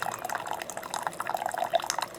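Hot water from a new Chulux coffee brewer trickling and dripping in an irregular patter, close and fairly quiet, with no one talking.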